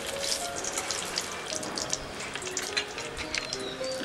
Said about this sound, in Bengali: এগুলোকে ভালো করে ফ্রাই করে নিচ্ছি।